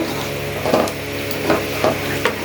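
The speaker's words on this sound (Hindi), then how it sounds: "अब भुनाई का टाइम है तो इसको मीडियम आंच पर हमने भूनना है।" Chicken liver (kaleji) stir-fried in masala over a medium flame sizzles steadily, with several rhythmic scraping stirs of a spoon against the pan.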